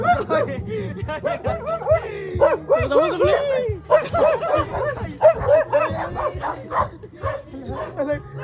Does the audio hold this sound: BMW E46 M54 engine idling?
no